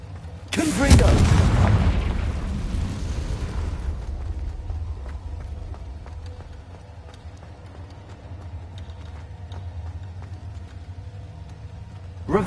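A loud booming fire-blast spell explosion from the Hogwarts Legacy video game bursts near the start and decays over a few seconds, leaving a quieter rumbling background with faint clicks.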